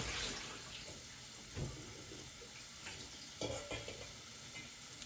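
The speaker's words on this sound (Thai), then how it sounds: "ผัดกับกระเทียมให้หอมนะคะ" Garlic stir-frying in a pan, steady soft sizzle under a faint clatter of stirring utensils, with a few louder scrapes and knocks.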